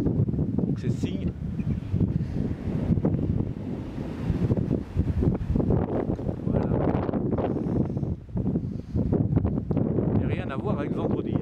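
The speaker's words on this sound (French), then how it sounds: "Voilà, le vent se lève." Gusty wind ahead of an approaching thunderstorm in Luxembourg roars across the microphone in loud, rumbling buffets, with a person talking over it at times.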